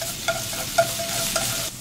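A tablespoon of minced shallots and garlic fries in a tablespoon of oil in a pan, a steady close sizzle broken by a few soft stirring scrapes.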